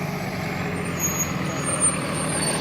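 A school bus idles close by with a low diesel rumble and steady engine drone, a faint hiss from its air brakes mixed in.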